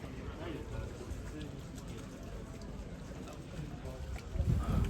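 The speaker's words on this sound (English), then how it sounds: "This is a boat ride at high tide." A tour boat moves through the water at high tide off Miyajima, Hiroshima, in Japan. A steady rushing wash of water and wind runs throughout, with a low rumble building near the end.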